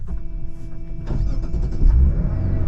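A 2024 Mazda CX-90 starts up from inside the cabin: a brief chime then the engine catches and settles into a low, smooth idle at close range, with no talking.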